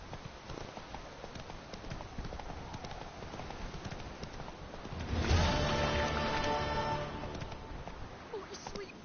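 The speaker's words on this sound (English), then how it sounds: "Whoa there, Roach" Horse hooves clip-clopping in The Witcher 3: Wild Hunt, a steady walking rhythm that grows louder and busier midway, heard alongside in-game character speech.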